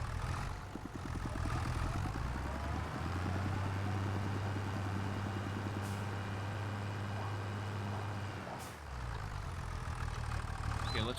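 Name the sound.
tractor engine idling in video game Farming Simulator 25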